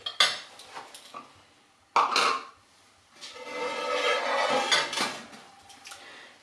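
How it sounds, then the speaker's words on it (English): Mixer beaters knocked against a baking bowl for a banana cake: a few sharp metallic clinks and taps, spaced irregularly, followed by a longer scraping rattle, close and fairly clear. "Clean off the beaters and then into the tin."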